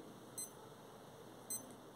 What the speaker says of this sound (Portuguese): Quando você aperta o botão, olha o som do bip.